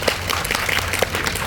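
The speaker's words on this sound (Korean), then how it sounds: "박수 한번 부탁드릴게요" Brief burst of audience applause at a film screening talk at a Megabox cinema in Seoul, dense and fairly close with no speech over it.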